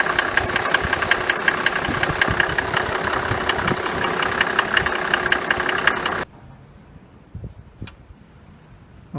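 A Mercedes W124 E300D estate's old diesel engine idles with a steady, rattly knock close by for about six seconds, then stops abruptly. Quiet handling clicks follow.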